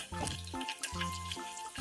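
Cumin and chillies crackle and sizzle in hot oil in a pan after mustard seeds, a soft, steady frying hiss with a faint tonal hum running underneath.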